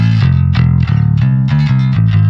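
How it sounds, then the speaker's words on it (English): A bass guitar is played through a Trace Elliott amp with a clanky, bright, distorted tone. Loud, sustained notes are plucked in a steady rhythm, close up, and no voices are heard. "clanky Trace Elliott tone."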